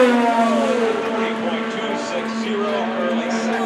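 Fernando Alonso's IndyCar runs at speed during qualifying coming off turn 4, a high sustained engine drone whose pitch wavers slightly, heard under a commentator's voice.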